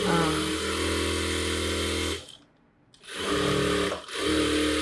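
A tailor's sewing machine stitches an umbrella churidar in quick bursts, a loud humming whir that stops briefly in the middle and again shortly after before resuming.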